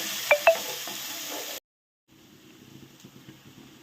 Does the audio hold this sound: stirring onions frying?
yes